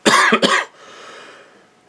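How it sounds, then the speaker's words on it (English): Two quick, harsh coughs up close, then a quiet fading hiss and a faint short sound at the very end. "I have a little bit of cough."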